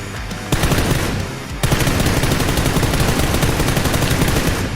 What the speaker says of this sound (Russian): И начинает стрелять